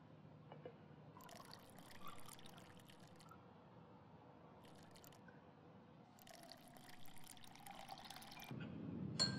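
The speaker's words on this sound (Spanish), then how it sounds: "En este mismo recipiente agregamos 50 mililitros de agua destilada." Distilled water, 50 ml, poured into a lab container during a chemistry experiment, giving a soft continuous trickle and splashing at close range with low room noise, swelling louder near the end.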